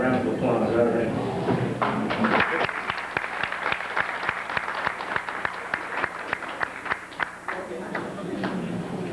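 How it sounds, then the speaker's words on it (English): Wedding reception guests give a short round of applause as the best man comes up, sharp scattered claps thinning out over the room after a burst of chatter at the start. "So let's give him a little round of applause."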